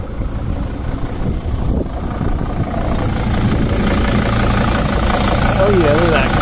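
A 2006 Dodge Sprinter 2500 with a 2.7-litre turbo diesel idling with the air-conditioning compressor engaged, a loud, steady close engine drone that swells slightly partway through, with someone talking over it.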